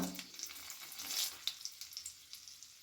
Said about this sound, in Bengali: কড়াইয়ের মধ্যে দিয়ে দিচ্ছি আমি কিছুটা পরিমাণ সাদা তেল তেলের মধ্যে দিয়ে দিচ্ছি তেজপাতা দুটো শুকনো লঙ্কা